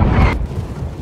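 A single heavy ship cannon blast in the naval combat game Blackwake, a loud close boom that quickly fades into a low rumbling tail.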